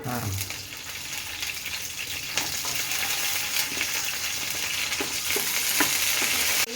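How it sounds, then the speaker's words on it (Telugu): Green chillies and tomatoes frying in oil, giving a steady, dense sizzle that holds evenly from start to finish, with faint occasional stirring clicks and no voice. "పచ్చిమిరపకాయలు టమాటాలు నూనెలో ఫ్రై చేసుకోండి"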